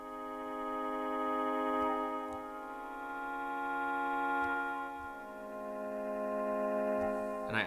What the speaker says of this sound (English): I actually made a pad, so it sounds kind of like this.